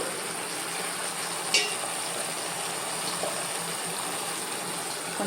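Spices and tomatoes sautéing in oil for a drumstick curry, a soft, steady sizzle and frying hiss with a brief clatter early on, no voices.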